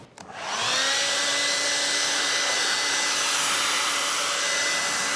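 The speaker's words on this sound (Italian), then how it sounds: "cosa intendevo quando dicevo acquerellare con un phon?" A hair dryer switches on and blows steadily with a loud, constant whooshing hum and whine that holds unchanged after a brief start-up, used to dry paint on old furniture.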